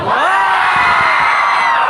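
A loud crowd cheers and whoops in a large college hall, a sustained roar of many voices yelling together throughout.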